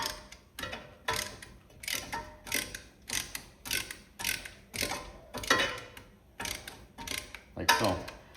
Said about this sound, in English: So with the ratcheting tool, basically just do this, and it will actually push the pistons back in.